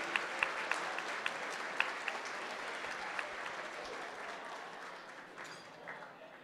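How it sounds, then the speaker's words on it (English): Conference audience at a plenary session gives the staff a soft, steady patter of applause, heard from a distance and gradually fading toward the end. "please give a loud applause to the staff"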